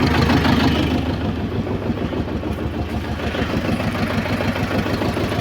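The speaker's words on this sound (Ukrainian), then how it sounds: "Тому вже трактор працює повним ходом майже кожен день." A T-25 tractor engine runs loud and close with a rough, thumping low chug, holding a steady idle the whole time, during snow clearing.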